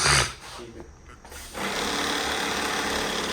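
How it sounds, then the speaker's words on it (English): A small electric headlight motor in a C5 Corvette whirring steadily after a brief burst and lull, a buzzy mechanical hum up close with a voice nearby. "It's a headlight noise."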